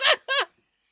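A human voice imitates a goose-like honk of air squeezed through a narrow gap, two short nasal honks in quick succession, close and loud, followed by silence.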